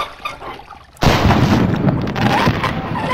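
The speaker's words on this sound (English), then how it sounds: "Aw, fireworks!" Fireworks burst in the video game Blood and Bacon, a sudden loud blast followed by a dense, crackling roar that stays loud and sustained.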